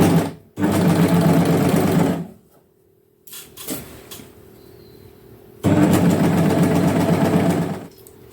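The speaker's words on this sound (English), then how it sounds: "So let's start sewing." Sewing machine stitching a jersey top seam in two steady runs of continuous whirring, separated by a quiet pause with faint handling clicks, close and fairly loud.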